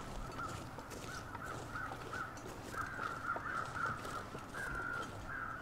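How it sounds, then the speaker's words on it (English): Crows flying overhead in The Long Dark video game, repeated faint cawing calls in an irregular series over a quiet wind-like background. "Here's some birds."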